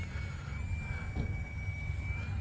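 An E-flite UMX Turbo Timber Evolution RC plane creeping into the wind at under quarter throttle; its electric motor gives a thin, steady high whine over outdoor wind rumble, faint and constant throughout.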